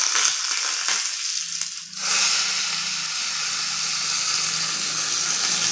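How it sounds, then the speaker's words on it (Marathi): Mustard seeds, red chilies, asafoetida and curry leaves sizzle and crackle in two spoons of hot oil for a tempering, a steady close hiss with a brief dip partway through. "आता फोडणीच्या भांड्यात 2 चमचे तेल गरम केलं, त्यात राई टाकते, 2 लाल मिरच्या टाकते, हिंग टाकते थोडा आणि कढीपत्ता टाकते"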